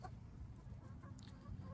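Backyard chickens kept for eggs cluck softly and intermittently at a distance, faint over a low background hum.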